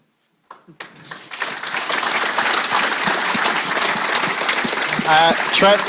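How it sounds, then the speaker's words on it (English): An audience at a rally forum event breaks into applause that swells from a few scattered claps into a dense, sustained round, with a voice rising over the clapping near the end. "Trevor, you've got a round of applause to contend with"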